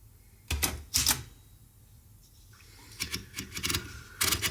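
Sharp mechanical clacks of an Empire Aristocrat manual typewriter come in small clusters of keystrokes separated by quiet pauses, close and fairly faint.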